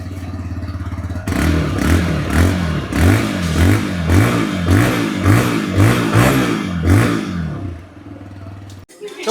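A 2025 TVS Raider 125cc motorcycle with a 124.5 cc engine, loud and close, blipped in a steady series of about a dozen quick revs over a low idle before cutting off.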